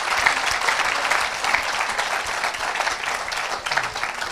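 Congregation applauding steadily through the whole stretch, a dense, even wash of clapping from a crowd at a church service, with no clear talking on top.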